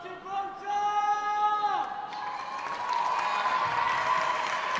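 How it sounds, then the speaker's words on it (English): Fans at an under-17 netball match between Gibraltar and Switzerland cheer and applaud in a busy indoor arena, a sustained crowd roar rising after a long whistle-like tone fades. "You still hear the fans, both fans."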